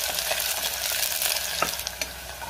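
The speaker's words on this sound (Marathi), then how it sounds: "कांदा मी 1 मिनिटभर परतून घेणार आहे" Onion sautéing in a pan, a steady close sizzle with soft stirring scrapes running throughout, no voices.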